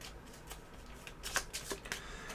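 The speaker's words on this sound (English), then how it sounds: "So let's give a shuffle." A deck of cards for the For Glory: Champions Expansion board game is shuffled in several quick riffled bursts, close and fairly soft, with no talk.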